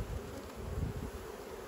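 Agitated honeybees droning in a hive as its inner cover comes off, a continuous low, dense buzz that holds at an even, close, quiet level throughout, no talking.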